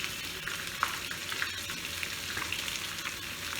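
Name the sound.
katla fish frying in a pan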